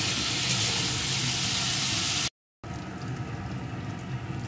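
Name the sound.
food frying in a pan on high flame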